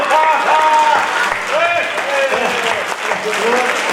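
Audience applause at a comedy poetry show in a Ranchi auditorium, a dense sustained burst of clapping from a large crowd with shouts and voices mixed in, loud and continuous.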